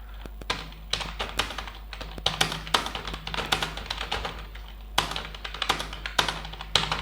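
Someone types on a computer keyboard, a close run of irregular key taps and clacks with brief pauses between bursts, no talking over it.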